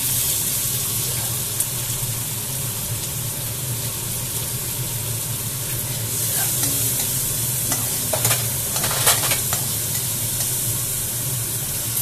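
Chicken and vegetables sauté in extremely hot oil, giving a steady, dense sizzle throughout with a few brief scraping and stirring sounds near the end, and no voices.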